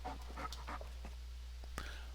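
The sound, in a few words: dog panting in video game Farming Simulator 19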